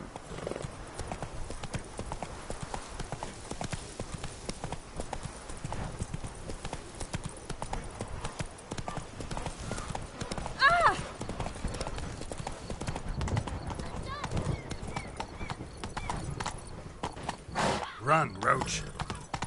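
Horse hooves clip-clop in a steady galloping rhythm in The Witcher 3: Blood and Wine on PS4, continuous and close throughout, with a brief snort or whinny partway through.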